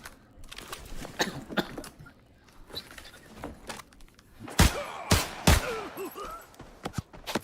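Bursts of gunfire in the video game Arena Breakout, several sharp distant shots scattered through, then a louder cluster of close cracks near the end, with faint voices underneath.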